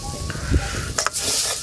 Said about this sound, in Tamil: தேங்காய் பூ போட்டு அளவுக்கு தேவையான தேங்காய் பூ வறுப்போம்